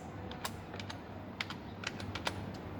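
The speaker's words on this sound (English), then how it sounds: "Now type in the name outdoor games." Brisk, irregular key taps on a computer keyboard as a folder name is typed, close and fairly quiet with a light hiss beneath and no voices.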